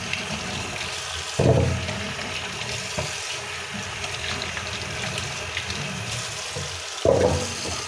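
Food being washed under running water from a tap, a steady splashing flow with two louder bursts of water hitting the sink, close by.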